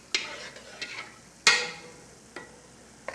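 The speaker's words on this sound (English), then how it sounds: "Now I'm gonna put this in there, all of this roux, and stir it as I put it in there." Roux whisked and stirred into a sauce in a pot, giving soft scraping swirls broken by a few sharp clinks of a utensil against the pot, moderately close with no voices.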